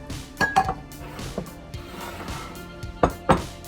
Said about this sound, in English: We're gonna mix it together to incorporate.